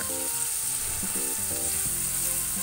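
Ground spice paste sautéing with bay leaf, lemongrass and lime leaves for Padang-sauce prawns, a steady close sizzle with occasional stirring scrapes, no voices.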